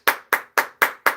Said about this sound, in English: clap it up. Clap it up.